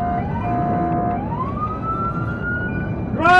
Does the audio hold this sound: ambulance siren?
yes